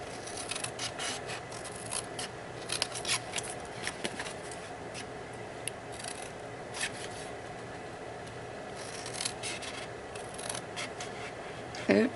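Scissors snipping card stock for a Stampin' Up box, with a series of short close crisp cuts and rustling paper.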